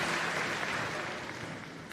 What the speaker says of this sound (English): as you extend a round of applause to all of these people who have supported you along the way